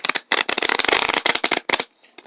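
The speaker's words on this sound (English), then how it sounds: "It's been a while since I've actually shuffled a pack card" Deck of playing cards being riffle-shuffled up close, a series of crisp rapid fluttering bursts with brief pauses between them, no talking.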